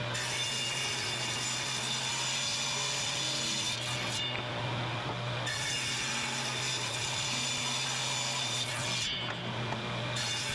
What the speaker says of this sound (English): notice how slow this cutting goes. These are the last cuts you'll see before the new motor goes on the table saw.